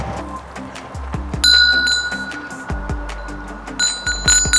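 A bell rings out repeatedly with bright metallic dings over low thumps and background noise, heard during a walk-through of a house for sale.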